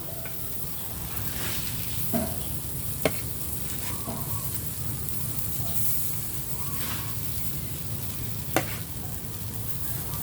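Sweet potato dessert dough cooking on a grill gives a steady, close sizzle with a few sharp clicks and taps scattered through it. No one speaks.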